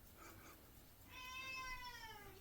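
A house cat gives a short, faint chirp and then one longer, clear, rising meow nearby in a quiet room.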